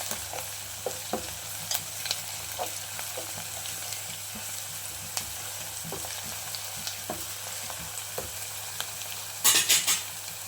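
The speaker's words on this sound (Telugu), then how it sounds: "దీంతో కొద్దిగా అల్లం ఎల్లిగడ్డ పేస్ట్ అది కూడా మిక్స్ చేసేసుకోవాలి" Ginger garlic paste fries and sizzles in a pan, with a steady crackle and scattered scrapes and clicks of stirring, ending in a brief burst of louder clatter near the close.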